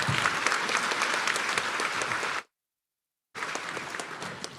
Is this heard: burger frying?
no